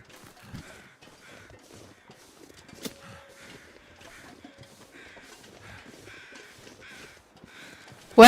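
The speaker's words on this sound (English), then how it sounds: "Imagine hearing some crows on Great Bear Island." Crows caw repeatedly at a moderate distance in the survival video game The Long Dark on Great Bear Island, in scattered bursts over quiet ambience, ending in a sudden loud burst.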